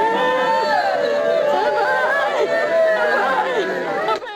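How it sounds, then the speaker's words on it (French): A large crowd of local residents gathered at a site in the Imai 90 area of north-west Cameroon, a dense murmur of overlapping voices and chatter held steady for several seconds before dropping off abruptly at the end. "une foule de riverains rassemblés"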